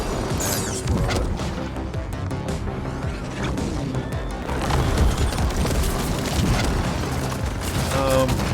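A grenade explodes in the Ascent video game, a heavy booming blast amid dense, continuous game combat noise with gunfire-like crashes that swell louder midway and stay loud to the end.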